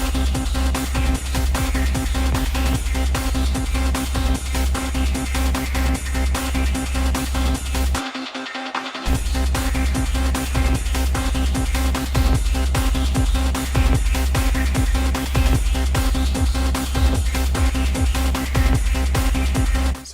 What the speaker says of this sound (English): Let's mute this one, and we'll throw down some kicks.